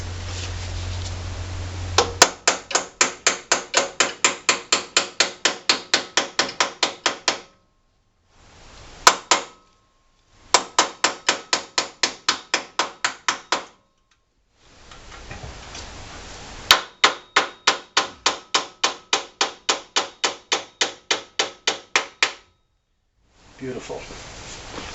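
Rapid bursts of hammer strikes drive a roll pin into the axle of a Cub Cadet 129 garden tractor, ringing metallic blows in several quick runs of twenty or more hits, separated by short pauses.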